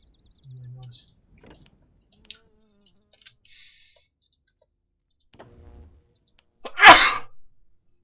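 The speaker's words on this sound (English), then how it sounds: "I'm sorry for the loud sneeze there." One loud, explosive human sneeze bursts out near the end, preceded by scattered soft clicks and faint sounds, with no talk around it.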